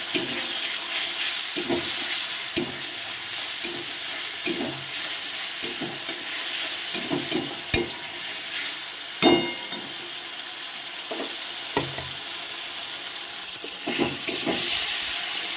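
Tomato paste sizzling in a pan over already fried ginger and green chili for a vegetarian paneer curry, a steady hiss broken by periodic scraping stirs and clinks of a spoon, close up with no talking.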